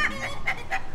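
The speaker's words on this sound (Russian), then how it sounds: "у нас и курочки кудахчут" Hens on a small farm apiary cluck in a quick, repeated run of sharp calls, close and fairly loud, with no talking.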